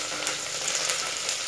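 Goat head curry sizzling steadily in a pan as whole spices, curry leaves and a piece of nutmeg are stirred in, a continuous close hiss with faint scraping strokes and no voices.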